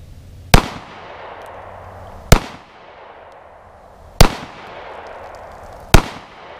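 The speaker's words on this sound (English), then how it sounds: "And now we'll shoot our FN SS197 SR ammunition, which is loaded with a Hornady 40 grain VMAX projectile," Four sharp, loud gunshots fire FN SS197SR ammunition loaded with Hornady 40 grain VMAX projectiles, evenly spaced about two seconds apart outdoors, each with a short fading tail.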